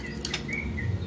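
A canary gives a few brief, close chirps while eating kroto (ant larvae), over a steady low background hum.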